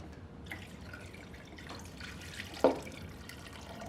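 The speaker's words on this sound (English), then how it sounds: "I'm going to add 4 cups of water as well" Water poured from a container into a soup pot for vegetable beef barley soup, a steady close trickle and splash that swells briefly toward the end.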